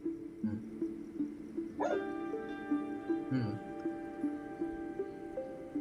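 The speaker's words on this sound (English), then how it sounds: "dog is getting a bit rough." A dog barks sharply twice at close range, with short whimpery yips between, over steady background music in a room.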